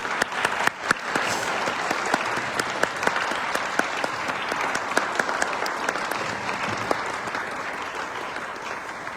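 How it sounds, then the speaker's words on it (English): A seated audience at a panel discussion gives a sustained round of applause, dense steady clapping from many hands with a few sharper claps standing out near the start. "We can give Tori and Peter a round of applause"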